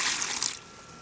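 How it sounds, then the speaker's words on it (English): Dissolved fertilizer water pours into a tomato watering tray, a brief splashing gush that fades to a faint trickle within a second. "It's dissolved. Just pour it right into there."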